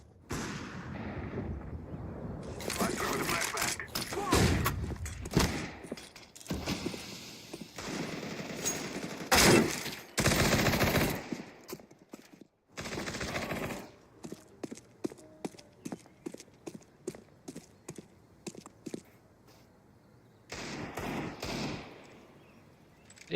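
AK rifle fire in a video game, close and loud, rattling in rapid automatic bursts and single shots separated by short pauses.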